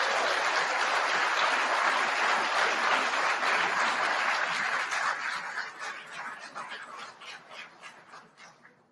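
Audience applause at a speech on trade and investment, a sustained dense clapping that gradually thins and fades into scattered claps toward the end; no talking.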